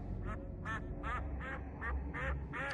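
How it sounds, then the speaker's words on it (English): Repeated duck quacks from a video game, Final Fantasy XIV Endwalker, about seven bursts in a steady rhythm over a constant low background hum, moderately loud and without talk. "Now there's a duck."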